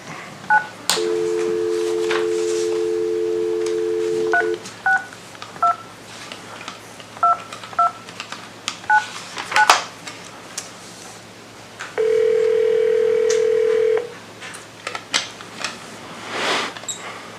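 Telephone keypad tones dialing a meeting participant's number, a long steady dial tone followed by a string of short, evenly clipped DTMF beeps, then a sustained ringback tone, with faint room clicks between.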